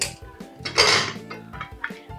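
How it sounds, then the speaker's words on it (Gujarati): A pressure cooker holding green undhiyu vegetables is opened, giving a few sharp, close metallic clanks and knocks of the lid and pot in quick succession, with no talk. "કુકર ખોલી દઈએ."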